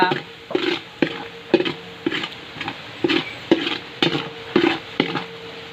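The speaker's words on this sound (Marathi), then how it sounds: "आता तेल आपलं छान प्रकारे तापलेलं आहे ना त्यामध्ये आता मी लसूण आलं आणि खोबऱ्याचं वाटण केलं होतं ना ते छान प्रकारे टाकून परतून घेणार आहे" Garlic, ginger and coconut paste fries in hot oil over a wood-fired stove while a spoon stirs it, giving regular scraping strokes about twice a second over a continuous close sizzle.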